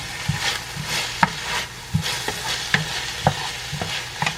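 Garlic frying in a pot for a one-pot Cajun jambalaya, a steady low sizzle broken by repeated scraping stirs and soft knocks of a spoon against the pot at an uneven rhythm.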